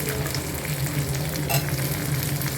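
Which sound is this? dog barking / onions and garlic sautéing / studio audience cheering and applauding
onions and garlic sautéing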